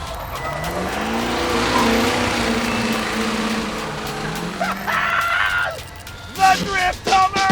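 A Hummer H1 drifting as a loud, continuous engine roar mixed with a sustained tire squeal and skidding; the squeal breaks up near the end with sharper chirps.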